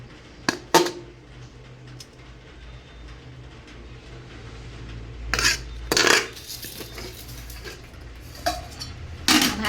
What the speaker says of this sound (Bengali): তোমাদের সামনেই ভাতটা বেড়ে নিচ্ছে।